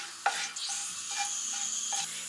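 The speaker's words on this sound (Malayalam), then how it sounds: "ഇതിലേക്ക് നമുക്ക് ബേ ലീഫ് അതുപോലെ തന്നെ ഒരു 3-4 ഗ്രാമ്പൂ ഇട്ട് കൊടുക്കാം" A bay leaf and a few cloves sizzle in hot oil, a steady soft crackle with occasional light stirring scrapes and small clicks over about two seconds.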